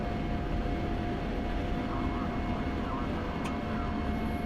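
A video-game jet aircraft climbs and levels off, producing a steady, even engine drone that holds throughout, with a faint voice underneath.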